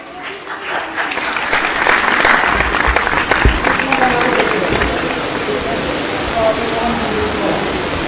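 An audience at an Independence Day debate competition and cultural show applauds, the clapping swelling within the first second into a sustained, dense roar, then easing slightly but continuing to the end.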